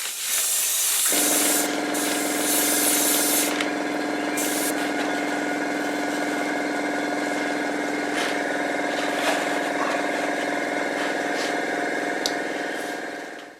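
A steady, loud hiss of an aerosol spray can spraying continuously, with a brief spurt near the start and the flow cutting off at the end.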